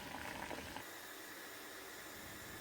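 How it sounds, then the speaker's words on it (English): Shrimp hides boiling in a pot of water, a steady, soft bubbling hiss that stays faint and unbroken, with a slightly busier burble at the start and no talking. "these guys have been boiling away now for about 10 minutes"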